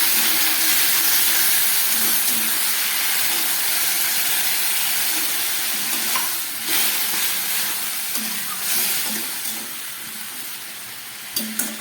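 Ash gourd curry with ginger and spices simmering in a pan after water is added, giving a steady loud hiss and sizzle with faint bubbling that eases slightly toward the end.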